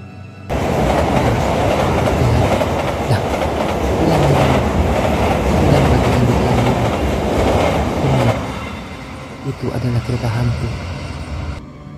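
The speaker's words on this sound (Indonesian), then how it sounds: "Dia melaju dengan kencang, teman-teman. Kencang saja. Ini adalah kereta hantu." A train rushes past at speed at midnight, a loud rumbling clatter of wheels on rails that fades as it moves away.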